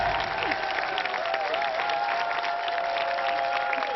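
Studio audience on a French television game show applauding steadily throughout, a dense even patter of clapping under a faint host's voice.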